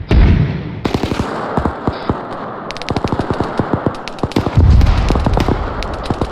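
Suppressive gunfire in Rainbow Six Siege: rapid sharp shots crack in bursts at an uneven rhythm, some near and loud, others quicker and lighter, broken by brief gaps over a low rumble.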